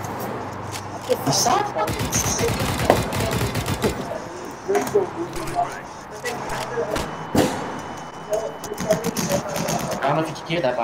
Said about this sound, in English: I'm spamming my keyboard